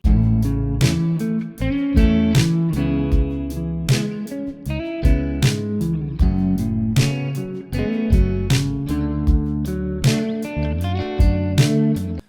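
Electric guitar arpeggios played as lead practice over a backing track, with bright picked notes in steady rhythmic runs above drums and bass, loud and continuous throughout.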